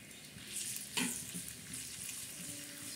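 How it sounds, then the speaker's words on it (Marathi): Garlic and cumin sizzle in hot oil for a tadka, a steady close crackle with a sharper burst about a third of the way in, heard alone without voices. "तर हे चांगला असं तडका करायचा त्याला तेलामध्ये"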